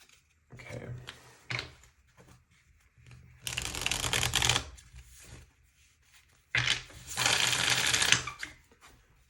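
Tarot cards shuffled in two long, dense bursts of papery riffling, with quieter handling and a few soft words between them.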